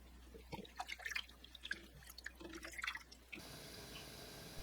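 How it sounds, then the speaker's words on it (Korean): Deboned dried pollock being rinsed by hand in water while making rice cake soup: soft, irregular splashes and drips, followed by a steady faint rush of running tap water. "가시를 제거하고 물에 헹궈 주세요."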